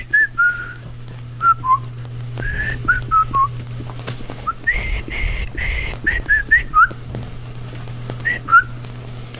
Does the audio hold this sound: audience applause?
no